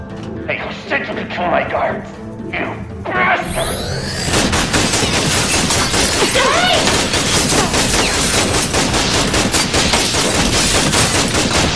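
Guards open fire with guns in the Tales From The Borderlands video game, a sudden loud, sustained barrage of rapid automatic gunfire and shots erupting after a few seconds of talk and continuing densely to the end.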